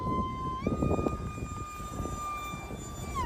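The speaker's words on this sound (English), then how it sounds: "Super high revving, which you need with a little EDF because it's got to create that power." E-flite UMX F-86 mini electric ducted-fan jet, powered by a high-kV motor on 4S, flies past with a steady, high-pitched whine that steps up in pitch after a throttle change, then holds before dropping near the end.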